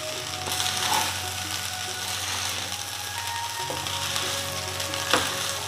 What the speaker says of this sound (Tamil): இப்படி கிண்டுனீங்கன்னா சாதம் வந்து உடையாது